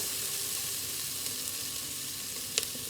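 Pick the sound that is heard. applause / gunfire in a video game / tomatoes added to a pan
tomatoes added to a pan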